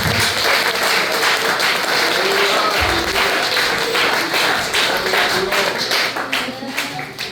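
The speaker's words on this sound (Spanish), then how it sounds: "Denle aplauso al Señor por esto." A church congregation applauds enthusiastically during a Bible study, loud clapping from a crowd of many hands that swells and then gradually thins out near the end.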